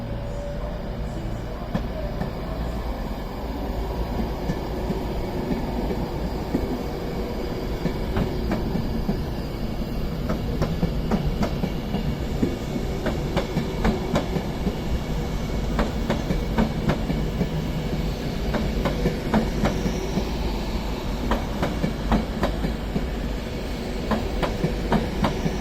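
An Avanti West Coast Class 390 train pulls out of Crewe on the West Coast Main Line toward London Euston, a steady rumble with clicking wheel beats building as it moves off, heard from the platform at moderate distance.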